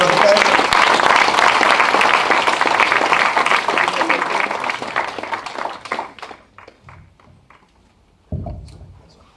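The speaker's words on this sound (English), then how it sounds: "Give him a round of applause, Brother Patrick." A crowd applauds loudly for several seconds, then the clapping thins out to scattered claps before a single thump near the end.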